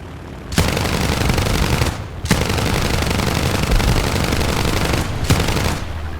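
Long bursts of rapid aircraft cannon fire from a Morko Morane in War Thunder roar continuously and loudly, broken by two brief pauses, with no voices.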